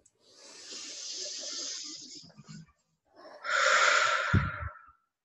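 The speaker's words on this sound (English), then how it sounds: "take a big deep breath" A long, deep breath during a tapping session for overwhelm: a slow, airy inhale lasting about two seconds, a brief pause, then a louder, fuller exhale ending in a soft nasal snort, close and clear with no talking.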